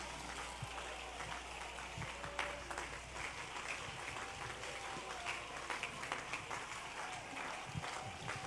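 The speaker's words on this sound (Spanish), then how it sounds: "Aplauda con ganas a Jesús." A church congregation at a convention claps steadily and densely, a continuous wash of applause heard from a distance at moderate volume, with faint voices in the crowd.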